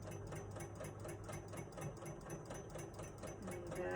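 A sewing machine stitches around the bottom of a fabric liner for a coffee cup change purse, giving a fast, continuous mechanical whir with quick rhythmic ticking, quiet and steady throughout.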